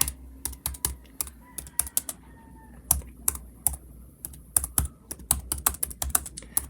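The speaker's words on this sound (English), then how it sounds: "We'll just type it out." Computer keyboard being typed on at close range, with a brisk, irregular run of sharp key clicks and short pauses, with no voices.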